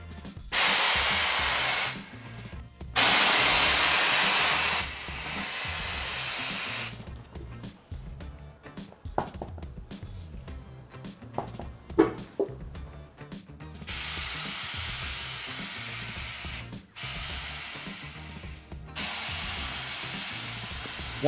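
A side-mounted bead loosener on a tire machine works the bead of a 19.5-inch truck tire, with loud bursts of pneumatic hissing, pauses, clunks and creaks in between, then a long steady air hiss.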